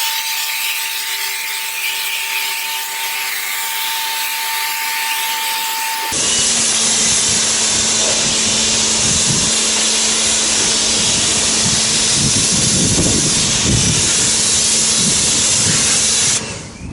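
A pressure sprayer hisses steadily as snow foam is applied to a car in a garage, the tone shifting partway through to a louder, rougher spray that runs continuously to the end, with no talking.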